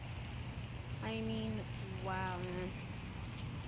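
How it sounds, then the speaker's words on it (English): Heavy rain pours steadily as a dense, even hiss throughout, with a voice briefly speaking over it. "Raining so hard."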